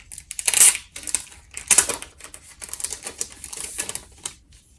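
Close, crisp crinkling and clicking as WayV trading cards from a 2020 Season's Greetings kit are handled and shuffled in their packaging, in irregular bursts with short pauses.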